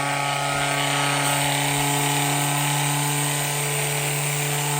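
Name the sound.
Ryobi sander on flat car cleaning G scale track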